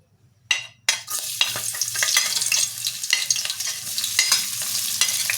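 Garlic and onion drop into hot oil and sauté in a pan with a sudden burst of sizzling, then a sustained crackle broken by frequent stirring clatters and scrapes.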